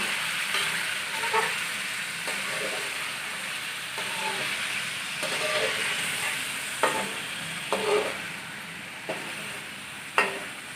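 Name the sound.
chicken being lightly fried and stirred in a pot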